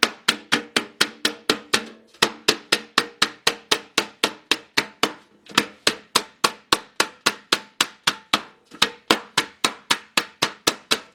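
A hammer strikes a tin container's flange to flatten it, a long series of sharp, evenly spaced metallic taps with brief pauses, close and loud with no talking.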